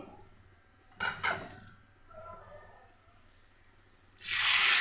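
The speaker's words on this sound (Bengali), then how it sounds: "1 কাপ পরিমাণ পানি দিয়ে দিচ্ছি।" Water goes into a hot pan of fried mung dal and spices, and a loud hissing sizzle bursts out at the end after a few quieter clinks and scrapes.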